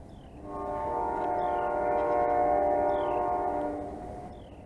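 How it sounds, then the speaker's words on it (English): A train passes at a distance, its long sustained horn swelling in and fading out over a steady rail rumble, with no talking. "That was probably trains."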